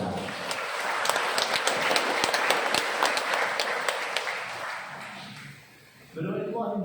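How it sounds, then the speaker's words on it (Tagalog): A church congregation gives a sustained round of applause during a sermon, dense clapping from many hands filling the room before tapering off, after which a speaker resumes talking. "Why don't we give the Lord a round of applause for that?"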